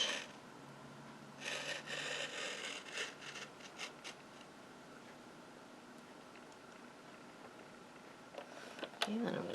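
Wood is cut with a blade in a faint, close workshop setting: a cluster of rasping strokes early on, then mostly quiet with a few light scrapes near the end.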